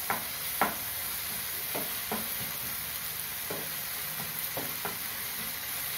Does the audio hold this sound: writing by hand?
no